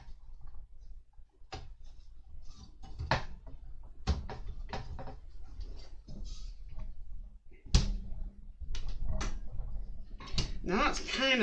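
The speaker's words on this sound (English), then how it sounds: "So I'm just taking all the screws out." Screws being backed out of a part on an Ecto-1 scale model, heard as scattered small clicks, taps and scraping handling noises up close, with a quiet background between them.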